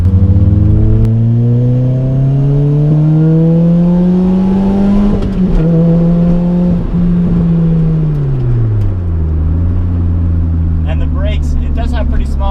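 A supercharged Lotus Elise engine pulls hard through a long acceleration, its rising drone climbing smoothly, briefly dipping at a shift, then climbing again, loud and close, with talking heard over the engine.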